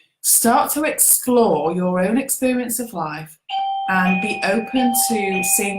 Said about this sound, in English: that's the doorbell, sorry